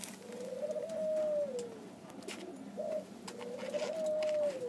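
Pigeons cooing near their feed, soft repeated coos in a few drawn-out phrases with short pauses, fairly close over a quiet background.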